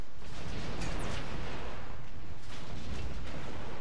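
Blaster and artillery fire in a modded Star Wars Battlefront 2 battle on a Yavin tundra map: dense low rumbling booms and bursts of shooting, muffled and continuous, fairly quiet.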